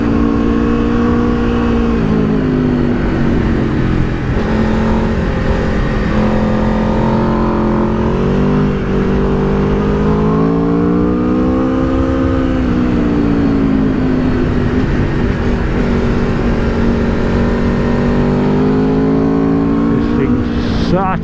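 An Aprilia RSV4 sport motorcycle's engine drones steadily through a run of bends, its pitch rising and falling with the throttle as wind rushes past, loud and continuous for the whole stretch.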